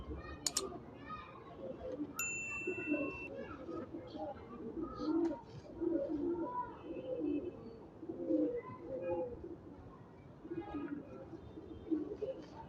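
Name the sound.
pigeons cooing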